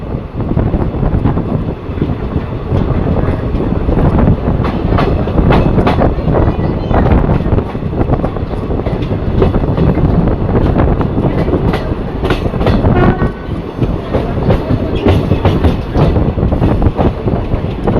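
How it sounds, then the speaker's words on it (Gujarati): A local passenger train on the Rajkot–Porbandar line pulls into Ribda station with a loud, continuous rumble, wheels clattering steadily over rail joints and wind buffeting close by for the whole stretch. "આ ટ્રેનનો રીબડામાં પણ સ્ટોપ આપવામાં આવ્યો"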